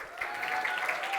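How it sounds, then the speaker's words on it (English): Brief burst of applause from a seated event audience at the close of a session, moderately quiet and even, with no speaking over it. "give yourself a round of applause"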